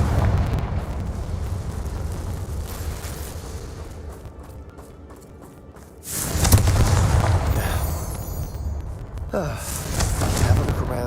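Confringo spell explosions in the Hogwarts Legacy video game: a loud rumbling fiery blast bursts in after a quieter stretch, followed by crackling debris and another boom toward the end, under a constant game soundscape.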